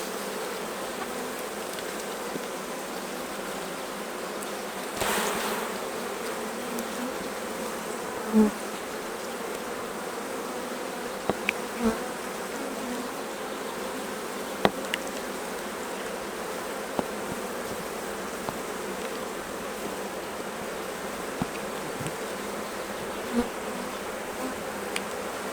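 Honeybees drone steadily around an opened hive during a split into nucs, a dense continuous buzz close to the microphone with a few brief ticks and knocks, and no talking.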